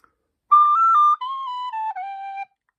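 A tin whistle plays a short phrase of the Old Favorite jig, a clear run of sustained, steadily stepping notes lasting about two seconds, close and alone.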